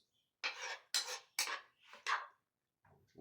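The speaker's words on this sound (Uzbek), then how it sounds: "nonni to'g'rab olamiz" A knife cuts through bread in four or five distinct strokes, each a crisp close sawing scrape with short pauses between, followed by a faint clatter at the end.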